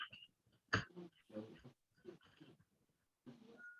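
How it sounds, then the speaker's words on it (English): A nearby dog gives a string of short, throaty barks and whimpering growls in several bursts, with a sharp loud one early on and brief gaps of quiet between them, heard indoors. "Sorry about the dog barking."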